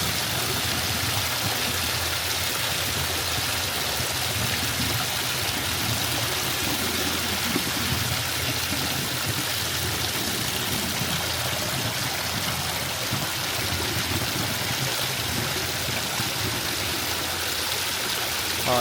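A sump pump running with water pouring and splashing steadily in a sump, a constant broadband rush with a low mechanical hum underneath, loud and close throughout with no pauses.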